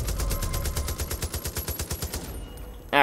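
Rapid automatic gunfire from the video game Far Cry 5, a fast even burst of shots for about two seconds, then a brief lull and a sharp sound at the end, with no talking.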